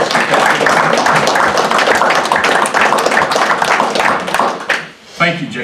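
Applause from attendees at a borough council meeting, loud dense clapping sustained throughout, briefly dipping near the end before resuming, with some voices mixed in.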